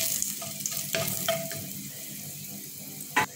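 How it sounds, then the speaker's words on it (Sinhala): Cinnamon, cardamom, cloves and other whole spices frying in hot oil as they are stirred, a soft sizzle broken by sharp clinks and scrapes of a utensil against the pan, with no voices. "මම ඒකට කුරුඳු කරදමුංගු කරාබු නැටි ඒ වගේම සාදික කකුළු ටිකක් දාලා හොඳට කලවම් කරගන්න"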